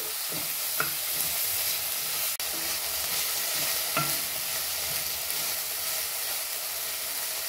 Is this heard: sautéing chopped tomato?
yes